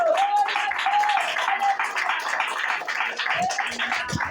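A church congregation applauds, dense continuous clapping with a faint tone drifting through it, filling the room at close range.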